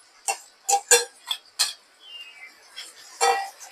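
Chopped kantola (spiny gourd) mixed with garlic and asafoetida in a pan, heard as a handful of bright metallic clinks and taps of a spoon against the pan, close and spaced irregularly, with no voice.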